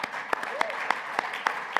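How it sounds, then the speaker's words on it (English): Evenly spaced, crisp claps ring out at a women's sport conference, following a steady, moderately paced rhythm over a soft background murmur. "And I'm glad that we are clapping"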